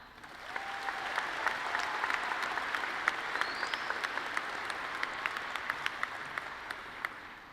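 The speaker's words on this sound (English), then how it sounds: "Let's hear a round of applause for Harlem family and staff." Graduation audience applauding for the Harlem class of 2026, a sustained wash of many hands clapping at a distance, steady throughout with a few sharper claps standing out.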